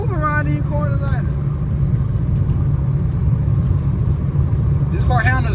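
A Dodge Challenger SXT V6 rounds corners with a steady, loud low engine rumble and road noise heard from inside the cabin, while a person talks over it at the start and end.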